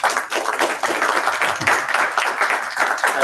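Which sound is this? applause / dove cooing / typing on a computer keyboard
applause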